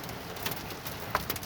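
Hail begins falling in a Summersville, Missouri thunderstorm, a soft continuous patter with a few sharper ticks of quarter-sized stones landing nearby, moderately quiet and without speech.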